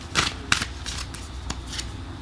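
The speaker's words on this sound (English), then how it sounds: "Let's pull some oracle cards here." Oracle cards being shuffled and pulled, with a few crisp riffling bursts and sharp slaps of card on card spaced across a couple of seconds, close and clear, with no talking.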